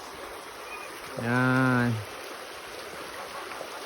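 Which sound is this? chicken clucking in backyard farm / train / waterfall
waterfall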